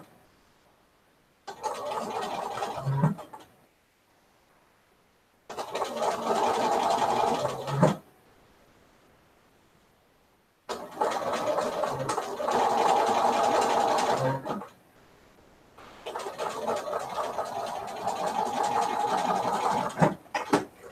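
Sewing machine stitching a quilt seam in scrap quilting: four steady whirring runs of a few seconds each, separated by quiet pauses, close and moderately loud with no talk.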